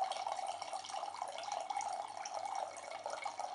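Water pours steadily, a continuous bright splashing trickle that stays fairly even and moderately quiet throughout.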